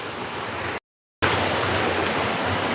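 Continuous rushing roar of a waterfall at a bathing spot, loud and close, briefly cut to silence before resuming just as strongly.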